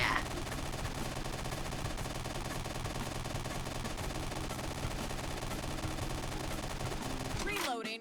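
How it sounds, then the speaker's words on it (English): Rapid, dense minigun fire from the video game Mercenary Kings roars continuously and loudly for several seconds, then cuts off abruptly into a brief sweeping electronic effect at the end. "This is what happens when I jump and fall firing a minigun."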